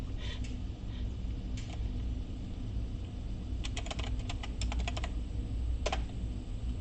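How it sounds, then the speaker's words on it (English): Computer keyboard typing in irregular bursts of clicking keystrokes, clustered near the middle and again toward the end, over a steady low room rumble with no talking. "I'll go ahead and type the answer"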